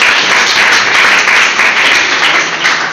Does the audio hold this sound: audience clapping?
yes